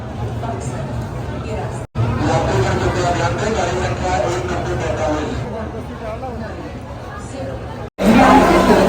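A packed crowd on a busy railway station on the Benaras to Malda trip fills the air with dense, loud overlapping chatter, steady throughout apart from two brief dropouts.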